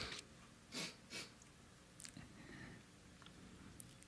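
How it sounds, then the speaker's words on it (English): Two soft sniffles go straight into a podcast microphone, close and brief, followed by a faint click and quiet room noise. "I don't want to sniffle into the mic, which I just did"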